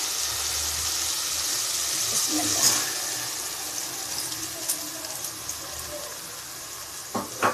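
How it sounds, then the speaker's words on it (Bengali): Polao rice and lentils fry in hot oil for khichuri, a steady close sizzle with occasional scraping stirs and small clinks, no voices. "খিচুড়ি রান্না করলে চালটাকে অবশ্যই ভাজা ভাজা করে নিতে হবে তেলের মধ্যে"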